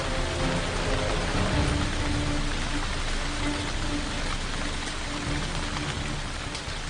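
Steady, dense rainfall hisses continuously and evenly throughout, close and fairly loud with no voices.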